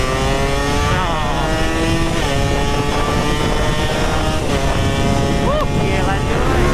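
A Suzuki Satria motorcycle engine runs steadily while being ridden, producing a loud, continuous droning roar with shifting tonal whine, close to the listener throughout.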